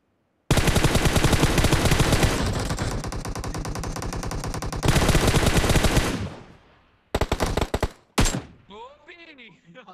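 Rapid machine-gun fire in a battle royale video game, loud, sustained automatic bursts for several seconds, then a few short clipped bursts and a final shot before trailing off into quieter game sounds.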